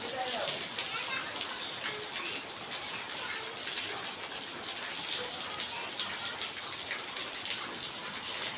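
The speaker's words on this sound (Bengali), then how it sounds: "ঝুম বৃষ্টি হয়েছে।" Heavy rain pours steadily outdoors, a dense continuous hiss of drops on surfaces, with faint children's voices at play beneath it.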